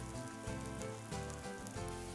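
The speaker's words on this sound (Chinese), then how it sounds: "炒锅内倒入菜油，开大火将油烧热，倒入姜蒜" Ginger and garlic fry in hot vegetable oil in a wok over high heat. The sizzle is a steady, dense crackle that runs throughout, with faint low rumbling underneath and no talk.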